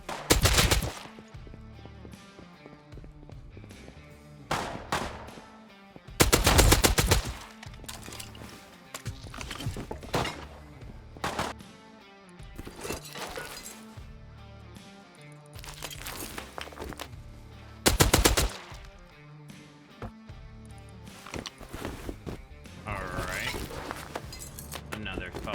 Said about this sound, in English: I hear gunshots outside my base